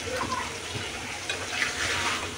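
Potato curry cooking in a pan with the lid lifted, giving a steady soft sizzle and bubbling that runs throughout at moderate level, with faint stirring scrapes and no talk.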